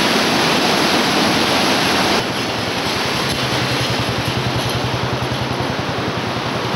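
Flood water in the Satluj river during heavy rain, a loud, broad, unbroken roar of rushing water with a low rumble underneath, with no voices.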